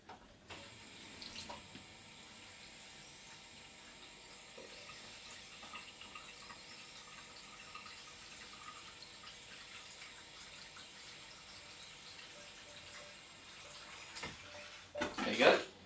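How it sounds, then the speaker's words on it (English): Water rinsing through a cider-making hose tube, a steady low wash of flowing liquid with a sharp splash and gurgle near the end as the tube empties; some faint background voice. "rinse that out, and also it's going to be rinsing the tube"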